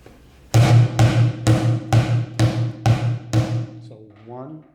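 Seven evenly spaced, loud hits on a bucket drum in a beginner exercise, each strike booming and then fading. A voice follows briefly at the end.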